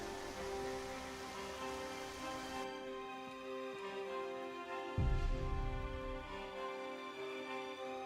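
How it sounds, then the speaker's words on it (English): Steady rain falls in Skyrim with the LoreRim modpack, a broad even hiss with a thin musical hum running beneath and a brief low thump partway through. "raining."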